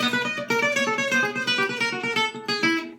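Chromatic gypsy jazz guitar lick: a quick run of crisp picked notes, close and clear, in a steady rhythmic stream over about three seconds with no talk.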